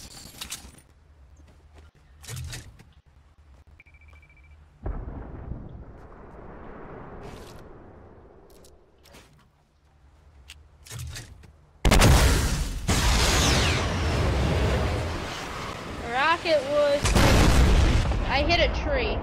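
Rocket explosions in the Fortnite video game boom loudly in the second half, preceded by quieter thumps and scattered effects, with players talking throughout.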